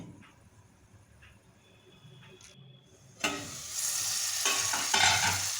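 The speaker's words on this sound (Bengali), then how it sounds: "এখন নেড়ে চেড়ে কিছুক্ষণ ঢাকনা লাগিয়ে রান্না করব যাতে মশলাটা কষানো হয়ে যায়।" Spice paste for a katla fish curry with beans and potatoes is stirred in a pan, quiet at first, then a loud sudden sizzle and hiss swells up and continues under brief scraping.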